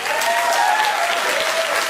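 A studio audience applauds at a political comedy talk show, a dense, steady wash of clapping that holds at an even level throughout, with no speech over it.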